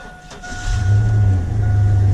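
A Chevy S10 Blazer engine, freshly fitted with a new radiator, idles close by, settling into a steady low drone after a brief rise, with no voices heard.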